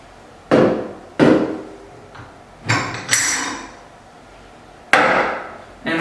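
Molds are pulled from a button maker machine. Several sharp knocks and clacks of hard parts ring out one at a time, loud and close, with quiet gaps between them.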